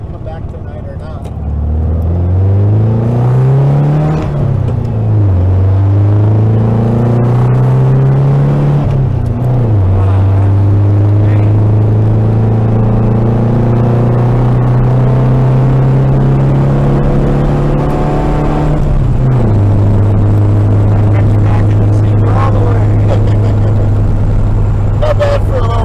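The engine of a 1956 VW Bug, fitted after an engine swap, drones steadily while driving, loud and close, its pitch climbing through each gear and dropping at the shifts, with occasional voices beneath.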